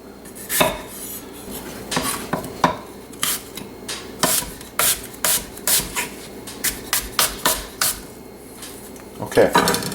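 Knife slicing an apple finely on a cutting board for a cinnamon apple tart, a run of crisp, close, regular cuts with brief pauses, no talk.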